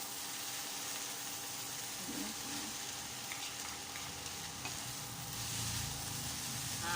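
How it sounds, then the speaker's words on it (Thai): Pad Thai noodles stir-fried with vegetables, street-festival style, make a constant soft sizzling hiss with a faint scrape or two, heard fairly distant and low. "ตัวเส้นก็ผัดให้พวกผักนะคะเข้ากับเส้นนะคะ"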